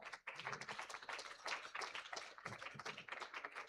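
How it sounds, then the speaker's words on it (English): An audience at a national child rights symposium claps for a commissioner, a quiet, continuous patter of many hands. "Let's clap louder for our commissioner."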